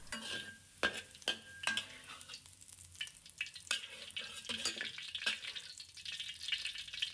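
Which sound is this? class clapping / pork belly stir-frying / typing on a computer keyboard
pork belly stir-frying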